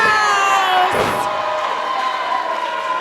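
Crowd noise at a live wrestling show, loud and steady throughout as a wrestler makes his entrance, with a brief burst of shouting and cheering near the one-second mark over sustained entrance music tones.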